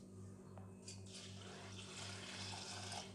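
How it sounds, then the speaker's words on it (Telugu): Water splashes and swirls as flattened rice is rinsed in a steel bowl, a soft continuous wash over a faint steady hum. "నీళ్ళు పోసుకొని బాగా ఒక 2-3 సార్లు ఇలా కడుక్కోవాలి"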